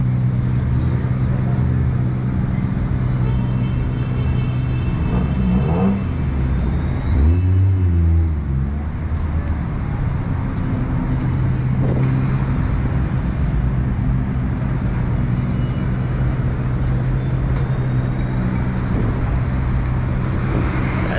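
JDM cars, among them an NSX and an Accord wagon, roll past in a car parade with a continuous loud rumble of engines and road noise, brief revving swells rising mid-way through.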